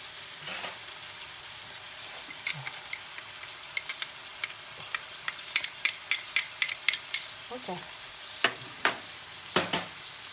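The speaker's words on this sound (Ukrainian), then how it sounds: "Кидаємо чесночок і лиємо олію." Garlic sizzles in oil in a pot, a soft steady frying hiss broken by scattered crackles and small sharp pops that grow more frequent toward the end, with no talking.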